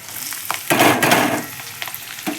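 Onion hits hot oil already seasoned with cumin and curry leaves while stuffed okra is being made, setting off a loud close sizzle that swells and then settles into steady frying crackle with a few stirring scrapes.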